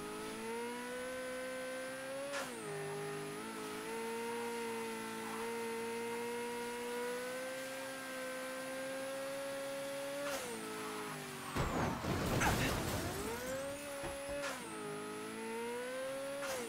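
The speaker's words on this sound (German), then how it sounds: "Aber die Karre läuft noch." A car engine in the game Mafia 3 holding a steady hum with a few dips and rises in revs, and a brief burst of crunching noise midway, moderately quiet.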